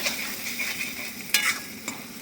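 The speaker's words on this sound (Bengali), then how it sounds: "আদা রসুনের বাটা দিয়ে দিচ্ছি, কাঁচা লঙ্কা দিয়ে দিচ্ছি, ভাজা চলছে।" Ginger-garlic paste and green chillies fry in a pan, giving a soft, steady sizzle with a few sharp scraping clicks of stirring, heard close and alone.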